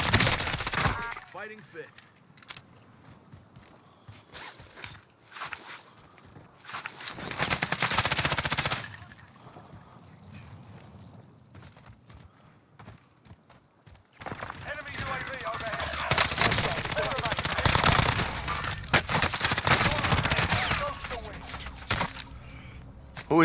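Hostile automatic gunfire in the Call of Duty: Modern Warfare video game comes in loud, rattling bursts, first sporadic and then a long, sustained barrage, with players talking in between.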